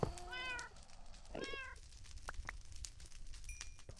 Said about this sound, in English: I can definitely hear zombie kitties and they are horrendous